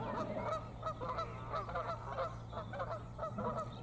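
Geese honk repeatedly from across a lake, distant and steady in loose overlapping calls over a constant low hum, with no talking.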